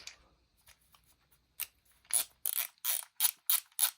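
A GearWrench ratchet wrench being worked close up, starting with faint light ticks and building into a run of loud, evenly spaced ratcheting clicks, with no voice over it.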